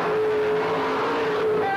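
A supercharged 466 cubic inch Chevy big-block running on alcohol roars in a mud bog truck racing down an indoor arena track, a loud, continuous engine howl rising briefly in pitch.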